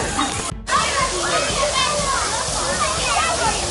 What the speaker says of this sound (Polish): Woda na mnie leci